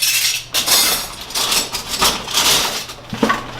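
Metal serving spoons and spatulas clatter and clink together as they are gathered into a tub at a sandwich station, with a steady jangle of cutlery close by.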